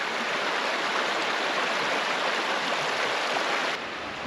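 Long Creek, a stream in Missouri's Hercules Glade Wilderness, flows nearby with a steady, close broadband rush of water that holds evenly and drops slightly in level near the end.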